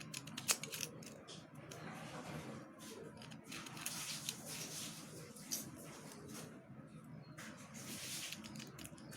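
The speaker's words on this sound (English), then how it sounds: "And cut the paper." Scissors snipping through paper during a simple home paper craft, a run of faint, quiet crisp cuts repeating across the stretch with no talking.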